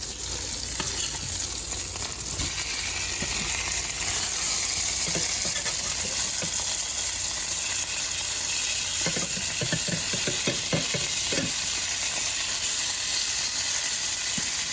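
Skin-on striped bass fillet frying in a pan, with a steady close sizzle and hiss running throughout and a few louder crackling pops near the end. No one speaks.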